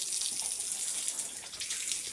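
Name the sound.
water being poured to bathe pigs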